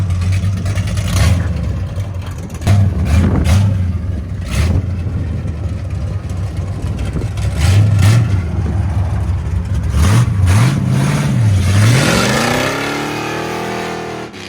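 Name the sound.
1970 Chevy Chevelle SS 454 big block V8 exhaust, straight pipe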